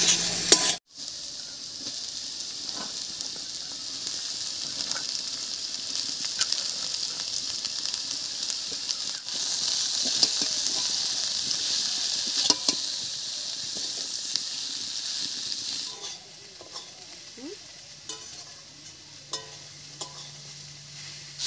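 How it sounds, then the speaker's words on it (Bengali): Chopped cabbage tipped into a pan of lightly fried potato and carrot, then stirred, giving a steady close sizzle with scraping strokes; the frying quietens somewhat near the end. "আলু আর গাজরটা হালকা ভাজা হয়ে গেছে, এবার এর মধ্যে কেটে রাখা বাঁধাকপিটা দেবো।"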